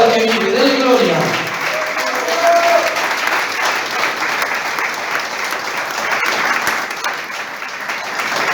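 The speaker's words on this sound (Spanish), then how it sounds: "Aplauda al que vive, dale gloria." A church congregation claps together in sustained, dense applause that stays loud and steady, with a voice audible briefly at the start.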